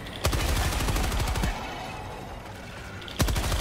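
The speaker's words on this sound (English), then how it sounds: "we're gonna have to go to the machine gun" Machine gun fire in the video game Helldivers 2, a rapid burst of shots near the start followed by a quieter stretch of game noise, then another sharp burst at the end.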